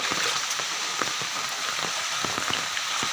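Steady rain pours down during a flood that has left water standing around a house, a continuous close hiss with scattered individual drop impacts and no voices.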